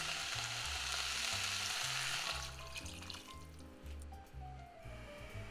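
Water is poured into a pot of sizzling sautéed vegetables for minestrone, loud frying giving way to a splashing, bubbling hiss as the water goes in, with a soft rhythmic tapping beneath.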